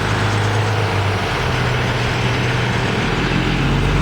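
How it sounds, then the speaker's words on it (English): A dump truck rumbles past on a road through Stanley Park, its heavy diesel engine a loud, steady low drone with broad roaring noise that holds at close range for the whole stretch, with no talking over it. "The dump truck pass by. Noisy things."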